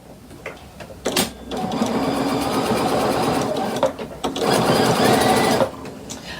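A sewing machine stitching fabric at a desk in two sustained runs of rapid mechanical whirring and needle chatter, close and loud, separated by a brief pause and followed by light handling noises.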